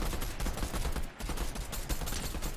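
Rapid gunfire in the Fortnite video game, a dense continuous burst of shots with a brief dip midway, loud and up close with no talking over it.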